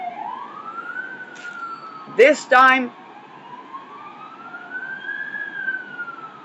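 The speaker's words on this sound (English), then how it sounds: "there's a lot of ambulances there" Ambulance sirens wail in a slow rising and falling sweep, steady and moderately distant, while a person briefly speaks over them.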